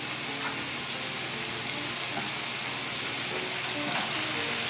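Shrimp frying in a pan with coconut cream sauce, a loud, steady close-up sizzle and hiss that holds evenly throughout with no talking over it.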